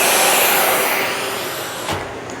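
A Dyson DC65 Animal vacuum cleaner is switched off, its loud high-pitched whine winding down steadily over a couple of seconds, with a small clunk near the end.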